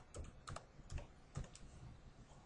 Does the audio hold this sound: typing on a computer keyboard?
yes